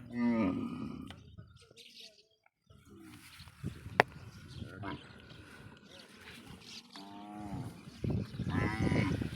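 Cattle moo a few times amid farmyard noise and people talking nearby on a Padma river sandbank near the India–Bangladesh border; a sharp click stands out briefly.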